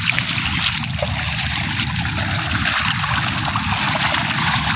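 Water trickling and splashing steadily while calamansi plants are watered into muddy soil, a continuous broadband wash that stays fairly loud and even throughout with no talk over it.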